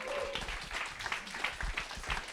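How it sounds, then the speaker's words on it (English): Audience applause at a fellowship demo day, a light patter of clapping from a small crowd, fairly quiet and irregular, with some murmur mixed in. "let's give one final round of applause"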